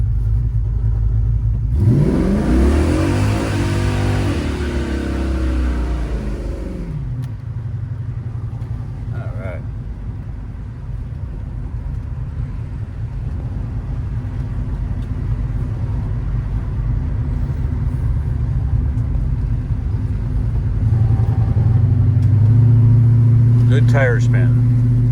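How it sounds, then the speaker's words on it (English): Callaway SuperNatural Impala SS V8 revving hard with tire spin during a tune-up run, a loud sweeping rev surge early on, then a sustained heavy engine drone and rumble, with talking over it. "Good tire spin."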